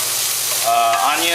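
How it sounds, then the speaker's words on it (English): Chopped shallots, onions and celery fry in a little olive oil, giving a close, steady sizzle with soft crackles and a light stir near the end. "celery that I'm frying in a little bit of olive oil"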